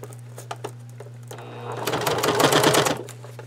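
Sewing machine stitching fabric for a bag: soft rhythmic ticks at first, then a rapid, steady mechanical chatter of fast stitching that stops abruptly, over a constant low hum.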